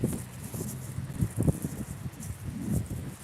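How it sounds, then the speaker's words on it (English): Gusty wind rumbles against the microphone in low, uneven buffets, fairly loud and close, with no talking. "Still a bit windy."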